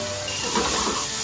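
Spiny lobster broth poured into crab fried rice in a hot pan, a brief close gush of liquid with a rising watery hiss and sizzle.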